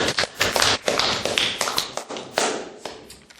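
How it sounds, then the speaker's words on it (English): Classroom applause after a group presentation, a small number of people clapping unevenly, with distinct close claps and a little shuffling. "All right, everybody give him a round of applause."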